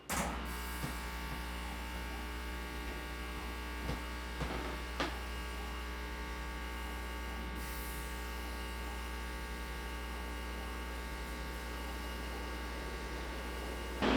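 A Thunder Laser cutter fitted with a 4-inch lens cuts 1/2 inch plywood, producing a steady electric drone and mains-like hum with fan noise, broken by a few faint clicks and ticks throughout.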